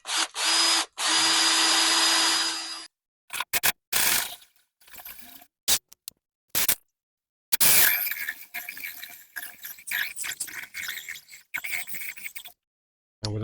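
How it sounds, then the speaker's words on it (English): A hole saw drills through a koi pond window fitting on a raised sleeper pond: one long, loud burst of drilling, then a run of short stop-start bursts and a final sustained cut, with no voices. "I'm going to drill through the middle"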